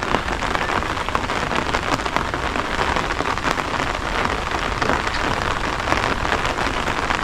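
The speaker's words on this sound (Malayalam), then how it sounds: "ഇപ്പം മഴ കൂടിയതുകൊണ്ട് വെള്ളം ഇച്ചിരി പൊങ്ങിയത് കൊണ്ടുമാണ്" Heavy monsoon rain pours down steadily beside a rising river, a dense, loud hiss of drops drumming on surfaces with no pauses.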